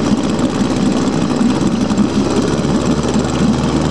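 A 5HP Suzuki two-stroke outboard engine runs steadily while set up as a water pump, with a continuous, loud buzzing drone and no pauses.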